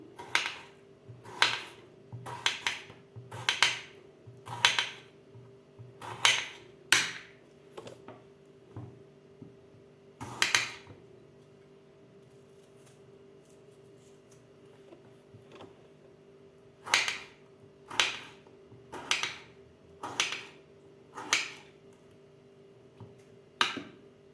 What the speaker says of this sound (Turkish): bütün domateslerimizi doğrayalım